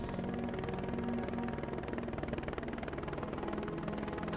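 A rescue helicopter flying in the Khumbu region of Mount Everest during an evacuation, its rotor and engine making a dense, continuous throbbing drone at steady moderate loudness.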